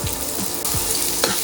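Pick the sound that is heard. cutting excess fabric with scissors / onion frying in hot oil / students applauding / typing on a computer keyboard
onion frying in hot oil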